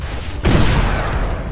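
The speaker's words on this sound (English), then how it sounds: "we just fired a rocket at a freaking dang police officer" A rocket fired in GTA 5 goes off with a loud, sudden whoosh-boom after a brief high whine, then a rumbling tail that fades slowly.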